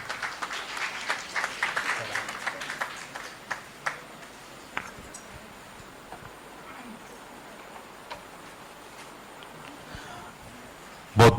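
Applause for a visiting college representative at a three-day Hindi literature festival in Jamshedpur: a dense burst of clapping that thins into scattered claps within a few seconds, leaving a quiet hall with a few stray claps.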